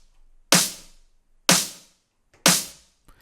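A punchy snare layered with a clap, programmed in a melodic techno track, strikes three times at steady one-second intervals, each hit loud and sharp with a short decaying tail and a tiny ghost hit near the end.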